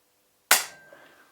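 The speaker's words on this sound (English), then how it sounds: "I'm just going to do a safe dry fire on it" Dry fire of an FX Impact M4 Extended .25 calibre air rifle with a two-stage trigger: one crisp, sharp snap, close and loud, fading out quickly with a faint ringing tail in an otherwise quiet room.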